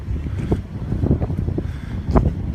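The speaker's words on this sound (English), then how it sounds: "Another windy day, just for a change." Wind gusting on a blustery day, a steady low rumble of buffeting against the microphone with sharper gusts swelling and fading throughout, no voices.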